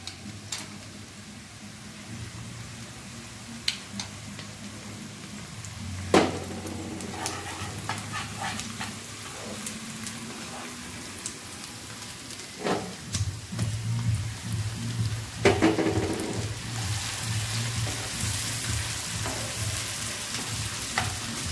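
Chopped garlic frying in a pan for a dhaba-style egg tadka, a steady oily sizzle with occasional sharp spatula scrapes and taps, rising to a louder, denser crackle near the end.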